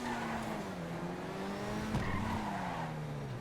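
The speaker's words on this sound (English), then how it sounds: "It is the fastest car in the sports classic category." A Grotti Turismo Classic sports classic car in GTA Online drives with a steady engine drone, shifting in pitch, and tires squealing as it skids, moderately loud and without voices.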